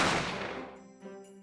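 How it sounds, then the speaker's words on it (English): A single loud gunshot sound effect in a puppet play, a sharp crack that decays into a ringing, tonal tail over about a second, heard alone. "I didn't have time to think about where the sound of the gunshot had come from"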